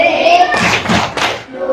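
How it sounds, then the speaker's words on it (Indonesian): Schoolchildren in an elementary classroom clap a short rhythmic class cheer, a few sharp bursts of hand claps up close, mixed with voices. "Kita beri tepuk tangan."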